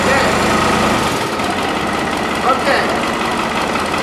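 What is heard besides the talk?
tractor engine starting and idling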